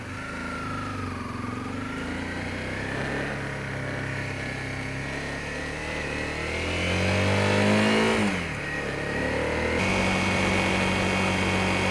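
A Honda CRF250L motorcycle with a modified airbox revs on a test ride, the engine note rising and falling steadily and loud throughout, with a swell of acceleration near the end.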